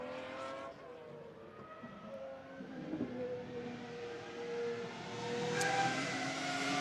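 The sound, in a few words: GT race cars driving around the Nürburgring circuit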